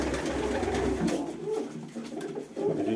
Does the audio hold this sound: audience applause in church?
no